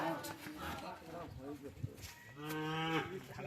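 A cow moos at a cattle shed in Dakshin Barasat, giving a drawn-out, resonant low call near the end, while people talk nearby over the shed's background noise.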